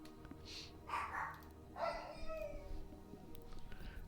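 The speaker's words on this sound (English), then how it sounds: "Oh my God, can you hear my dogs?" Several dogs bark from somewhere nearby, a few brief muffled bursts spread over a few seconds against a low steady background hum.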